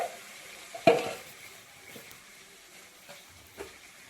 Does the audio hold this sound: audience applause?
no